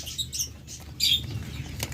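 Caged king quail flapping their wings in short, brisk bursts of feathery fluttering, close by and moderately loud, with faint chirps and patter in between and no talking.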